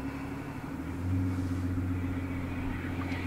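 A Mercedes V12 S65 AMG idles as it backs up slowly, a low steady engine hum and rumble close by that swells slightly partway through, no talking.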